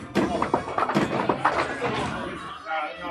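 In a pro league bowling match, a ball strikes the pins as a series of sharp thuds and clattering knocks, amid crowd noise and a commentator's voice.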